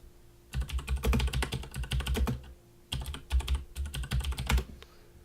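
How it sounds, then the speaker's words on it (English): Rapid clattering keystrokes on a loud keyboard, close up, in two bursts separated by a short pause, with no talking. "sorry, my keyboard is so loud."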